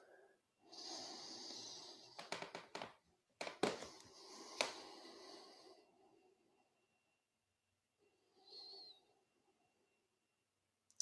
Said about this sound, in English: And just breathing in and out through the nose.